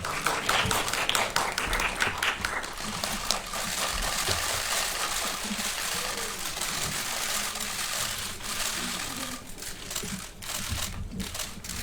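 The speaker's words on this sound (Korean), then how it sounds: "박수로 맞이해 주시기 바랍니다." At a film premiere, an audience claps as the director and actors are welcomed, a dense, busy wash of applause with rustling and some murmur underneath, staying steady before tapering slightly.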